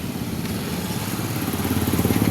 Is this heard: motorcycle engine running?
yes